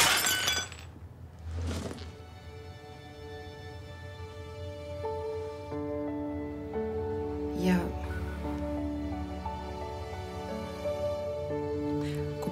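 Crockery and dishes smashing to the floor in a domestic argument, a sharp shatter at the start and another crash around the middle, heard under tense music and background room sound.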